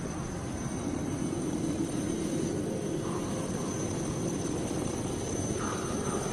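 A helicopter flies over the Nazca lines in the Peruvian desert, its engine and rotor making a steady, loud, unbroken drone throughout with no voices.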